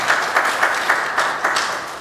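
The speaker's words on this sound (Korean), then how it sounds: "우리 자녀들을 박수로 격려하며 보내겠습니다." A church congregation applauds during a Sunday service, a steady, fairly close roar of many hands with a loose rhythmic pulse of clapping running through it.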